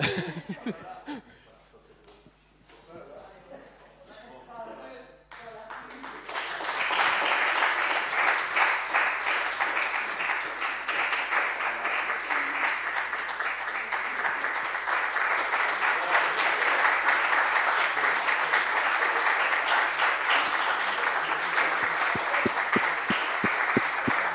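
An audience bursts into sustained, dense applause after a brief stretch of quiet room noise, with scattered chuckles and faint voices beneath the clapping at a church gathering.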